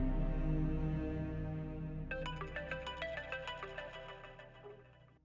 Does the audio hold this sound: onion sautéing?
no